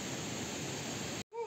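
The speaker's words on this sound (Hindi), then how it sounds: "ये झरना।" Close, steady roar of a mountain waterfall fills the clip, then cuts off abruptly just before the end, followed by a brief different sound.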